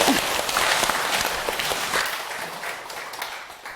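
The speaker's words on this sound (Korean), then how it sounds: "박수 한번 부탁드릴게요" An audience claps at a Buddhist talk, a dense wash of applause that starts full and gradually thins and fades over a few seconds.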